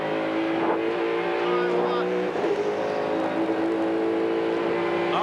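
A Ford Falcon race car engine roars steadily from onboard during a 1994 touring car race at Sandown, a loud continuous drone with small rises and dips in pitch, while a commentator talks over it.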